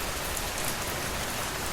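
Steady rain falling, a dense even hiss of drops on surfaces, continuous and enveloping with no pauses and no voices.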